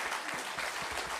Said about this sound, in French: Il faut applaudir avant.